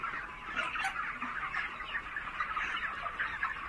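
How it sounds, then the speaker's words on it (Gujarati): A dense flock of broiler chickens clucks and chatters continuously in a poultry farm shed near Surat, Gujarat, with no talk. "જો કેટલી બધી મરઘીઓ છે અહીંયા"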